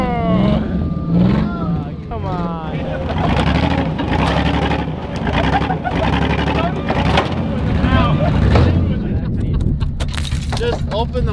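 A skid steer's engine drones and rumbles nearby as it drags a car off a short bus. A reversing beep sounds and people talk over the machinery throughout.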